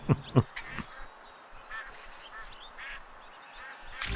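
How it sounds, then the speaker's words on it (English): Ducks quack in the Duck Dynasty video game, a few loud, sharp calls near the start and then fainter, scattered quacks over a low background hum. "Whoa, look at all those ducks oh, suddenly"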